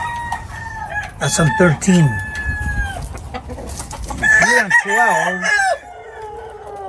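Game fowl roosters crow one after another, loud and close, among Brown Red and Black McRae brood birds, with hens clucking in between while someone talks over them.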